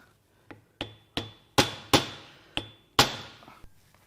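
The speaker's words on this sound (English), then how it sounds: "Gonna use your chisel driver." About eight sharp, ringing metal hammer blows on a chisel driver, spaced irregularly and growing louder, while trying to knock a spun part off a BMW N55 crankshaft during an engine teardown, close and alone.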